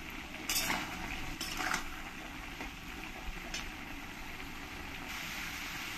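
Chickpeas being mixed with turmeric and salt in a pot: a spoon scrapes and clinks against the metal in a few sharp strokes near the start, then a quieter stirring rasp continues under a low background hum.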